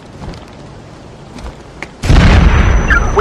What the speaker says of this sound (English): Grenade out! Grenade out!